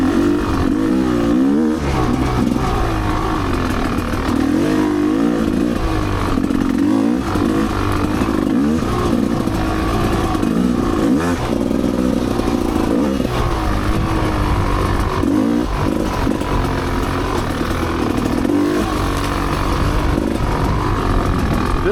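A Rieju MRPro 300 motorcycle riding an off-road trail on the Holton Loop, its engine droning loud and close throughout with constant revving and throttle changes.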